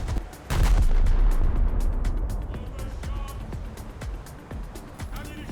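Pom-pom anti-aircraft guns fire in the War Thunder video game, a loud booming burst followed by repeated thudding shots and rumble, with a voice talking over it.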